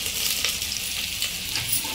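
Bay leaf in hot oil sizzles and crackles steadily, with a soft stir partway through; no voices.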